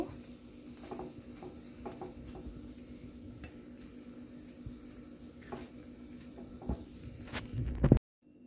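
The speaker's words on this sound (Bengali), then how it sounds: "এভাবে করে আমি বেশ কিছু বিফ দিয়ে দিয়েছি। চুলার জাল মিডিয়ামে দিয়ে আমি ভেজে নেব।" Beef pieces frying in a pan on medium heat make a low, steady sizzle with scattered spatula taps as they are turned, growing louder just before stopping.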